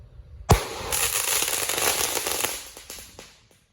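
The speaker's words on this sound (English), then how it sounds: "it doesn't look like that shell detonated to its full capacity" A firework shell touched off by a lit visco fuse bursts with one sharp report, then a dense crackling shower rolls on for about three seconds before thinning out; no one speaks.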